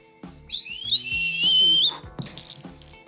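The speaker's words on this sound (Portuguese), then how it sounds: "E depois de fazer aquele sopro mais forte, ainda com o apito na boca, nós vamos cuspir o apito." A loud, piercing whistle blast held for about a second and a half, sharp and close, followed by quieter clatter.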